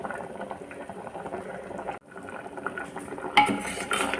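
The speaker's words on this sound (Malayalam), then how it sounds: "കറി തിളച്ചു. നാളികേരമൊക്കെ നന്നായിട്ട് വെന്തു." A Kerala curry of mango, jackfruit seeds and coconut boiling in a pot, a steady bubbling simmer with a brief clink, then a louder burst of bubbling and utensil noise near the end.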